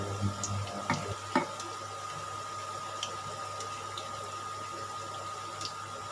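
Savoury, crisp khaja pastries flavoured with nigella seeds deep-fry in oil, giving a steady close hiss with a few soft clicks and pops near the start.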